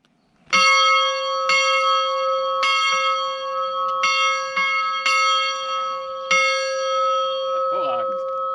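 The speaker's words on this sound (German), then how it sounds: "Unser Highlight dieses Mal natürlich die Glocke." A bell on the Herkulespfad hiking trail in the Odenwald is struck again and again, about seven bright, sustained rings with long overlapping resonance, loud and close, with faint voices in the background.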